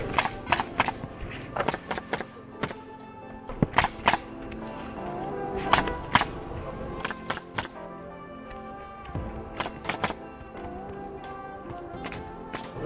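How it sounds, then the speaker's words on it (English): Hammer or nail gun blows driving nails into asphalt roofing shingles during a shingle installation, sharp percussive hits in irregular bursts and pairs throughout, fairly close, over faint background noise. "And then we're gonna nail it real low."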